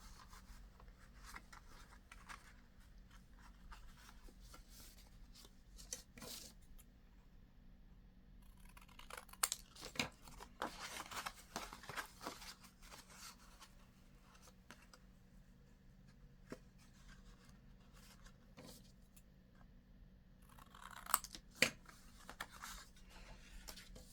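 Scissors snip angles into a paper envelope tag, quiet scattered cuts and rustling paper coming in small bursts, close and faint with no talk.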